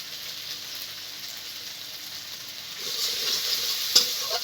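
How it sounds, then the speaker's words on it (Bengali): Spice paste (masala) with salt and turmeric sautéing in oil in a pan, a steady soft sizzle that grows louder midway, with a single sharp tap of stirring near the end. "মশলাটাকে আমি ভালো করে কষিয়ে নেব"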